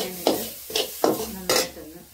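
Grated coconut is stirred and roasted for theeyal in a pan previously used to roast chillies, with four distinct scraping strokes in an uneven rhythm, close and fairly quiet, and a faint sizzle between them.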